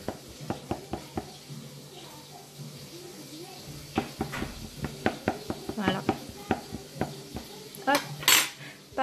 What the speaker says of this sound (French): je vais mettre quelques trous avec une fourchette pour que ma galette sera bien cuite